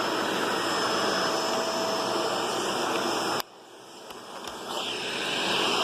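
A Shark DuoClean Power Lift Away Speed vacuum cleaner roars loudly with suction, then drops sharply in volume and rises again as the airflow changes.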